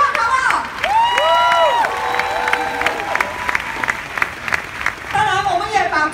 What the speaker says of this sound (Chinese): 让你来一个最热烈的掌声